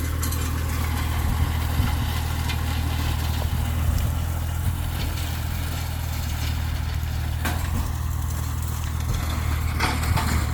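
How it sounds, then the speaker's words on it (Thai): A Kubota L2000 tractor's three-cylinder diesel engine idles steadily nearby, a low, even rumble with a few faint knocks and clanks, no voices. "เราไม่ต้องเร่งเครื่องเยอะเลยครับพลังเครื่องยนต์สามตูบ"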